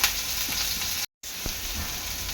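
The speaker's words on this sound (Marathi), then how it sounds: "गॅस स्लो ठेवायची आहे अशा प्रकारे सर्व गाबोला मी तेलात सोडणार आहे" Fish roe frying in hot oil over a low flame gives a dense, continuous crackling sizzle, close and fairly loud, broken only by a very short silent gap.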